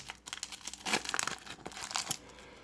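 Foil wrappers of Pokémon booster packs being torn and crinkled open up close, a continuous crackling rustle with a few sharper rips.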